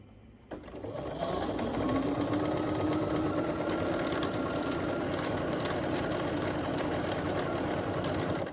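Sewing machine stitching a quilt, starting with a click and then running in a steady, fast mechanical whir with rapid needle chatter, continuous and close by.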